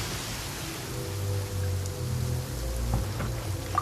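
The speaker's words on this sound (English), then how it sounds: "Let us find shelter from the rain" Steady rain falls in Genshin Impact, a broad even hiss of drops running throughout, with low rumbling game ambience underneath and a few faint clicks near the end.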